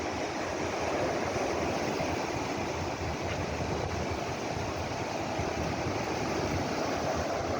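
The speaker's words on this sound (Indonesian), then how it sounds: "suara laut mulai memanggil, seperti sedang memeluk kita dari kejauhan" Sea surf at Pantai Molang beach produces a steady, moderately loud rumbling roar from the distance, continuous and even throughout with no distinct breaking crashes and no voices.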